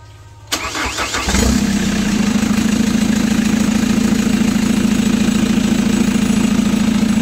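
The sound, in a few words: Chevrolet Captiva engine starting and idling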